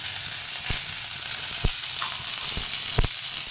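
Garlic cloves sizzling in hot oil in a clay pot, a steady close frying hiss with a few soft clicks and taps of stirring, no talk.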